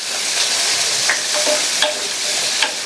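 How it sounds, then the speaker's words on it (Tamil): Chopped onion being sautéed in a pan, a continuous close sizzle broken by a few soft scrapes and knocks of a stirring spoon. "அதை சேர்த்துட்டு இதை லைட்டாக வதக்கி விட்டுட்டு ஸ்டவ் ஆஃப் பண்ணிடலாம்"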